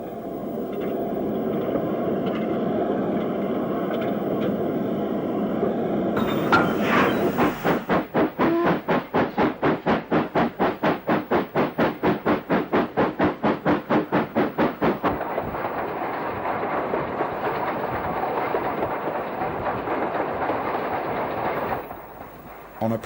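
A steam train running on the line near Leekbrook, a steady rumble that breaks into a long run of rapid, regular chuffing beats before settling back into a continuous roar.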